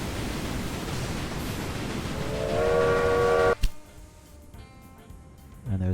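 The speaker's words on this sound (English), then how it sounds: "And there's another train going." A train rolls by in the railway strategy game Railway Empire 2, a broad rumbling roar with a rising horn-like tone, cut off by a sharp thud, then a quieter stretch before the noise swells again.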